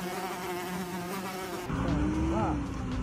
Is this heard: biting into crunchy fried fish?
no